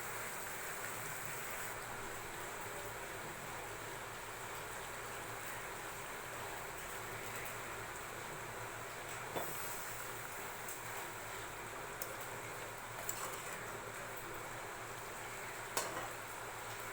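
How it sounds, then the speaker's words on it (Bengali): Boiling water pours into a pan of fried-down mutton curry, giving a steady, soft rushing hiss with faint scattered clinks of metal cookware, no voices. "এরপর এখানে একটু ফুটন্ত জল মাংসে ঢেলে দেব।"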